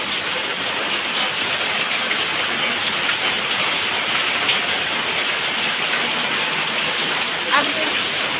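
Heavy rain falls in a dense, continuous roaring hiss, close and loud throughout, with people talking faintly underneath.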